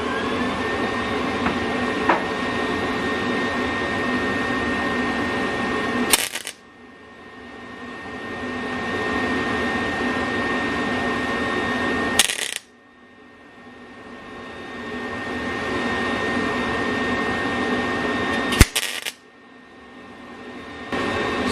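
A Lincoln MIG welder runs on clamped metal while giving trouble, with a steady, loud broadband crackle and hiss sustained for about six seconds at a time, cut by brief pauses into three or four long passes, and no voices.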